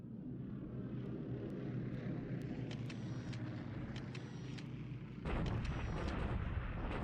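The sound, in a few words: bombardment sound effect in War in the Pacific video game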